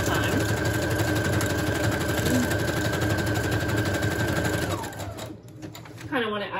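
A sewing machine runs steadily and loudly while stitching a decorated journal page, its continuous motor hum lasting several seconds before stopping abruptly, followed by a brief quieter stretch.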